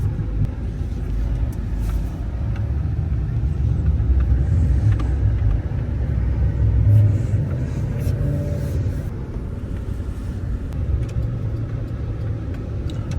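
A two-door single cab pickup truck drives along the road, heard from inside the cab as a continuous low engine and road rumble with light rattles, steady and moderately loud throughout, no voices.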